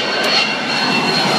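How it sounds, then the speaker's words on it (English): A fixed-wing airplane passes overhead close to an airport, a loud steady jet-engine roar filling the whole short stretch with no other sounds. "Plane going over right now."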